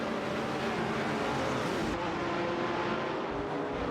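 Race cars in an AI racing video game, including a Dodge Charger Super Bee and a Plymouth Barracuda Hemi, a steady roaring engine drone that stays loud and continuous for a few seconds.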